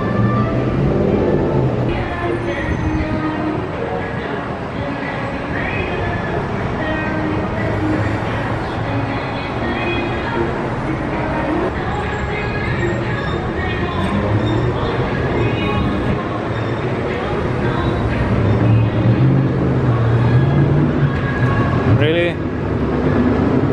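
A monorail train runs steadily on its elevated track, giving a continuous rolling rumble and hum heard from on board for the whole stretch, with voices faintly present underneath.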